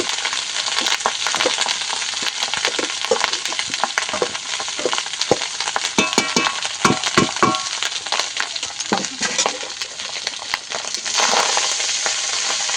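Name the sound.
cooked rice added and stir-fried in pan for hilsa fried rice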